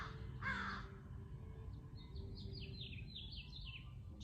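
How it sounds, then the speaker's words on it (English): A crow caws once nearby, followed by a rapid series of high chirping bird calls outdoors, with faint low background hum. "Enjoy the birds here."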